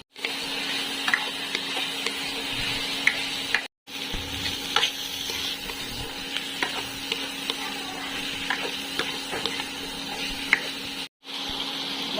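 Pork sinigang being stirred in a cooking pot, a close, steady sizzle with scraping and clinking of the utensil against the pot, broken by two brief silent cuts.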